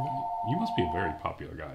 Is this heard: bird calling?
no